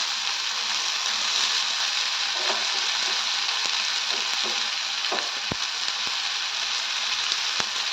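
Masala for a mixed-grain sambar sizzling and frying steadily in a pan, a dense continuous hiss with a few sharp taps of a spoon against the pan, no voices.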